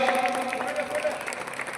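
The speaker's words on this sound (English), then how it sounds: "I request everybody kindly clap for her." Clapping from an audience at a Chief Minister's Cup chess award ceremony in an indoor stadium, a short burst of scattered applause with crowd voices and talk mixed in.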